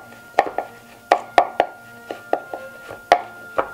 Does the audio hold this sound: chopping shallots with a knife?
yes